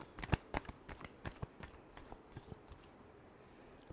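A tarot deck given a final shuffle, a handful of close, crisp card snaps and flicks in an uneven rhythm that thin out and fade after a couple of seconds.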